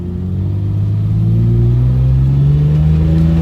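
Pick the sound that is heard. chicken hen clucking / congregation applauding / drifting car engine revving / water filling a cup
drifting car engine revving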